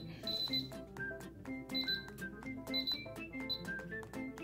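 Electronic beeps from an Instant Pot control panel as buttons are pressed, a quick series of short bright tones repeating in clusters, close and clear with no talking.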